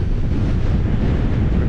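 A strong 26 mph wind at a wild camping spot with a budget tent roars and buffets the microphone. The rumble is loud and continuous, with no voices.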